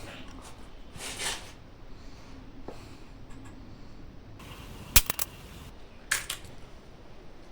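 A Winchester Xpert rifle firing SK long range ammunition gives one sharp, short crack followed by a fainter snap over a quiet outdoor background.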